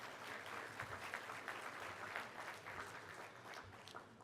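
Guests at a hospitality industry awards ceremony applaud the staff, a faint, distant wash of steady clapping that lasts throughout.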